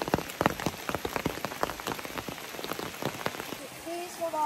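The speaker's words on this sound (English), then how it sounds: "setting it up in this pouring rain will not be fun" Pouring rain on a trail drums onto a tent or tarp surface, with heavy scattered drops striking close by in an uneven, continuous patter.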